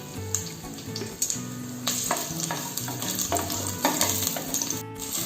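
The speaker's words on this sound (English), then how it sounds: "So I am adding the pearl onions, 4 to 5 numbers." Pearl onions hit a hot pan of oil for a Tirunelveli-style sodhi, a continuous close sizzle and crackle with occasional scraping stirs, with no voices.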